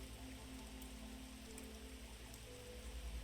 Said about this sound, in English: imagine that you're being told this sleep story to the relaxing backdrop of rain outside